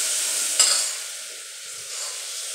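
A tempering for onion-greens bhaji sizzles loudly and steadily in a hot pan, with a brief stir clatter near the start before the frying hiss eases slightly.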